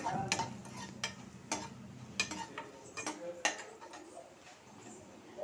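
Garlic frying in a pan over medium-low flame, with a soft sizzle broken by several sharp spoon-scraping and stirring clicks against the pan, close and fairly quiet.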